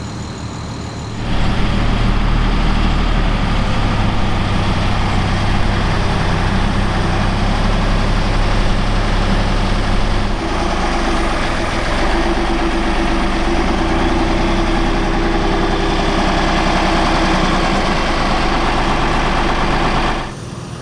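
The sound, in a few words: Unimog 416 truck engine running while pulling trailer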